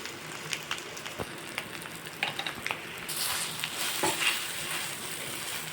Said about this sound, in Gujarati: એને મેં મેશ કરી લીધા છે બટેકાને હવે આપણે બધું જ મિક્સ કરી દઈશું